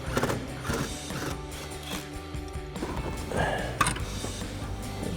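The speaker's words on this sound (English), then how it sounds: "grab our T50 Torx bit and a long extension on our impact and go ahead and remove the 2 bolts back here" An impact wrench with a long extension and a T50 Torx bit backs out car seat rail bolts, giving rapid mechanical ratcheting and hammering bursts with rattling clatter throughout.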